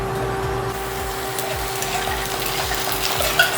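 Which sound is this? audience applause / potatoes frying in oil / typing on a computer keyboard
potatoes frying in oil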